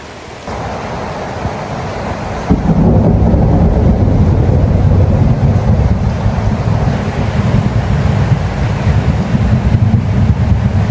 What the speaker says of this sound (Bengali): বৃষ্টিটা কমছে